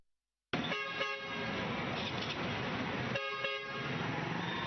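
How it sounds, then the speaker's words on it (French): High-pitched vehicle horns sound at a travel agency in Douala, Cameroon, where students board coaches. The horns start abruptly with sustained blaring blasts, then a second horn burst follows, loud and near, with no talking. "Au son aigu des klaxons, chacun rejoint son siège."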